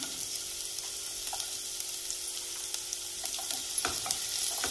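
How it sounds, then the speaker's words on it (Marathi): Green chillies sautéing in a hot pan on high gas make a steady bright sizzle with occasional crackles and stirring scrapes, close and continuous, with no talking. "मिरची पण एक अर्धा मिनिट परतूया व्यवस्थित"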